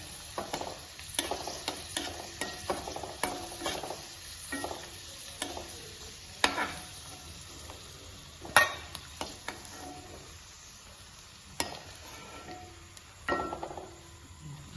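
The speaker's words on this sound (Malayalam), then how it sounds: "പരിപ്പ് മുന്തിരിയെല്ലാം നല്ലതാണ് പൊരിഞ്ഞ് വരുന്നുണ്ട്" Cashews and raisins fry in hot oil in a pan, a steady close sizzle broken by repeated sharp clinks and scrapes of a spoon stirring, with no talking.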